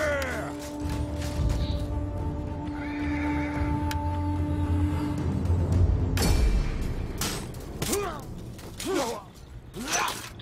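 A horse in a video game set in ancient Gaul gives several whinnying neighs, with hoof clip-clops and game noise under a steady background hum, loud and close.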